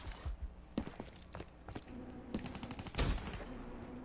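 Rapid gunfire bursts and scattered single shots in Black Ops 3 multiplayer, loud and close, with footsteps and clattering game effects in between.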